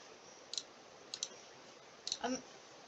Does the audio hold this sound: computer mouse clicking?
yes